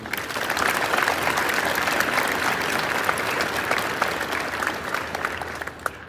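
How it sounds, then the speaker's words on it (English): Steady, dense applause from a crowd, many hands clapping at once for the full stretch, fairly loud and even throughout. "So big round of applause for the academics."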